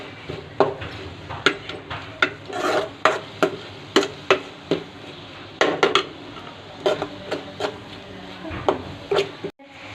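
Pav bhaji vegetables being sautéed in a pan, a spoon scraping and knocking against the metal in a quick irregular series of rasping strokes, fairly loud and close, ending with a sharp thud.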